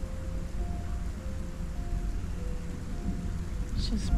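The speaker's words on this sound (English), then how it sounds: "Ominous thunder." Steady rain with low rolling thunder fills a zombie apocalypse video game, a continuous wash of noise that swells slightly near the end, with no speech.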